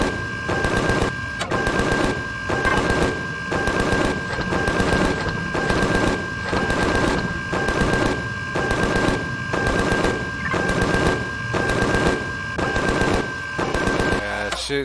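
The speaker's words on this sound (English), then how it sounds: "it's shooting at something you can't hit" Rapid automatic gunfire in Empyrion Galactic Survival, a loud sustained burst repeating in regular pulses about a second apart, with a steady high electronic tone running underneath and no talking.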